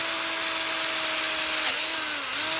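An electric drill spins with a steady high whine, its pitch briefly dipping once as if under load, close by and without speech, used on a steel car wheel.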